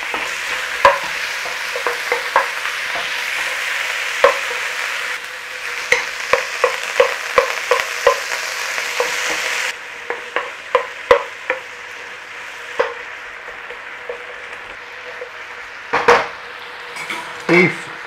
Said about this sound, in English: We just need to quickly cook it off.